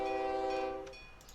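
A Railjet train in the OpenTTD game sounds a short, steady horn tone as it departs, lasting under a second before cutting off into a faint, quiet tail.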